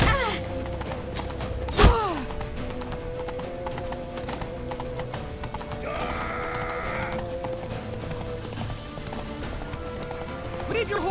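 Horse hooves clip-clop in a steady galloping rhythm in The Witcher 3: The Wild Hunt, loud and close throughout, with voices talking over the hoofbeats and a sharp thud about two seconds in.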